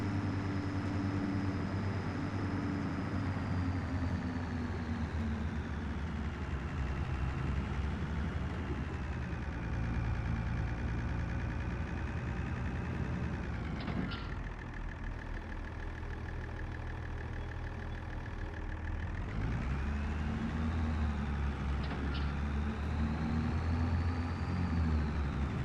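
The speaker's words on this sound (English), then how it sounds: "This isn't the best tractor for the water tank" A farm tractor's engine runs steadily near a water tank, a low continuous rumble with slight rises and dips in revs and a couple of brief louder surges, no talking.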